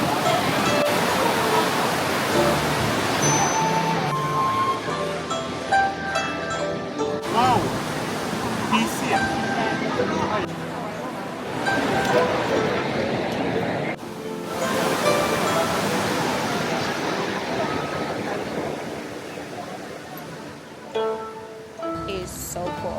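River water rushing at Dujiangyan in Chengdu, a loud continuous roar with shifting surges, heard close and steady, with music or voices layered faintly over it.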